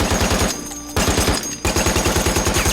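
A .30 caliber machine gun fires two short bursts of rapid rounds, loud and close, with a brief pause between them and a continued burst after.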